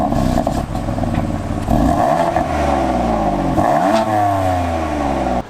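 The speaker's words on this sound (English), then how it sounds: "Bone stock exhaust. It's got all 4 cats on it still." A car engine with a stock exhaust and all four catalytic converters revs loudly and repeatedly, the pitch sweeping up and dropping back with each blip, a deep throaty exhaust note close by.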